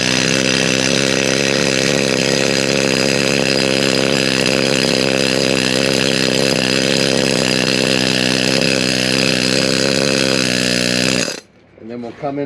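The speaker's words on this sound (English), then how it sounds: "with the needle scaler here, I'm just gonna work these grate bars a little bit" A needle scaler hammers at the grate bars inside a Putzmeister concrete pump hopper, a loud, continuous buzzing chatter that runs for about eleven seconds and then stops abruptly.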